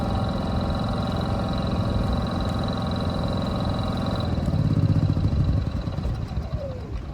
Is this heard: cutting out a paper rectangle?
no